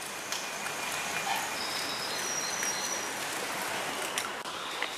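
Rainy spring day in Spain with a continuous soft patter of rain on surfaces, a few louder drips and a faint bird call in the background, no voices.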